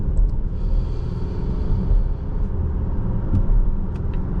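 2024 Volvo XC60 T8 Recharge Plus plug-in hybrid at speed, steady low road and engine rumble heard from inside the cabin, with a few faint clicks near the end.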